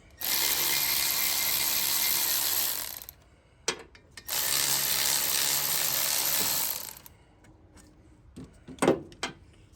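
An electric impact tool spins out the brake caliper bolts on a 2016 Jeep Wrangler, with two long, loud whirring bursts of about three seconds each, followed by clinks and light metallic handling sounds.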